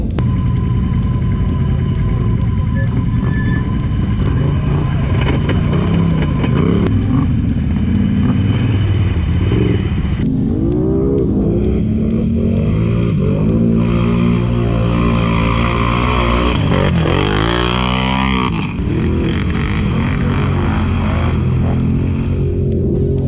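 A Polaris ATV engine revs loudly and continuously while driving, its pitch rising and falling in sweeping surges near the end, heavy and close with no talk over it.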